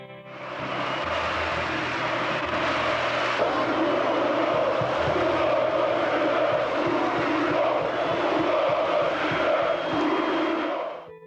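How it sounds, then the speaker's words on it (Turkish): A large football stadium crowd chants in unison for Oğuz Çetin, a dense, steady roar that holds at full strength for about ten seconds, distant and reverberant, with no clear voice standing out. "tribünler tek bir tezahüratla yankılanıyordu"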